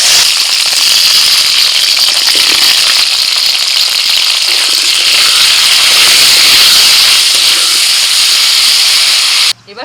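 Tomatoes sizzle in hot oil in a kadai, a loud, steady hissing fry that runs unbroken for the whole stretch before cutting off abruptly at the end, with no voices.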